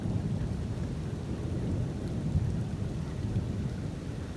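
Steady rain pours down in a severe thunderstorm, a dense low rumble of distant thunder blending with the constant wash of falling water.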